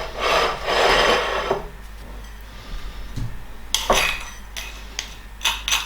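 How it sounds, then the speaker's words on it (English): Dried spices being ground into a fine powder for Thai red curry paste, heard as bursts of gritty rubbing and scraping, a long stretch at the start and then shorter strokes, close by with no talking. "Go ahead and give those a good grinding until a fine powder is formed."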